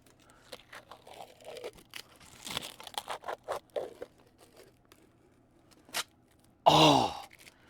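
Plastic packaging is pulled off a small display plaque for a 1/8 scale Mad Max Ford Falcon XB GT diecast model, with scattered soft rustles and taps, then a loud, close burst of crinkling near the end.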